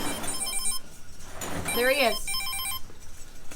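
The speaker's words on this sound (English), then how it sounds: "Phone's ringing." A telephone rings in repeated electronic bursts during an outgoing call, each burst short and regular with brief gaps between, while people talk over and between the rings.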